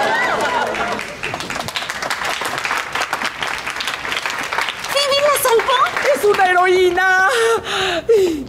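A studio audience claps and cheers for Phoebe in a sitcom scene, a dense sustained burst of applause with whoops, while voices shout over it toward the end.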